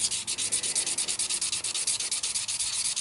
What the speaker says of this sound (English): Basically, you're just taking the burr off the edge.